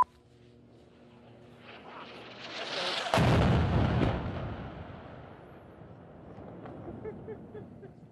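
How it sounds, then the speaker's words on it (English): A military strike explodes close by in Gaza: a rising rumble swells into a heavy, booming blast around the midpoint, then a long rolling decay with debris-like crackle, loud and near, amid faint background voices. "Just a few minutes ago, a strike in Gaza came very close"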